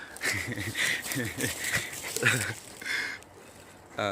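A pet dog whines and whimpers in short repeated bursts close by, with high, wavering cries mixed into the sounds of a person moving nearby.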